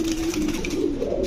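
Pigeons at a farm give a low, throaty coo, one soft rolling call close by, heard alone against a faint background.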